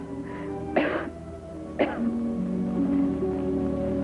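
Two short, harsh coughs about a second apart, set against a low, steady humming tone.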